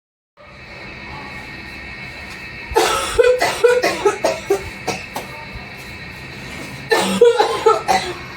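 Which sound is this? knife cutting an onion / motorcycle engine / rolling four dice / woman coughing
woman coughing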